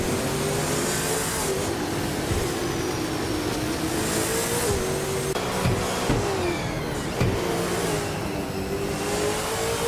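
A 2013 Nissan Altima engine in a racing video game holds a steady, continuous drone, its pitch rising and falling slightly as it revs. The engine note runs loud and unbroken the whole time, with no talk over it.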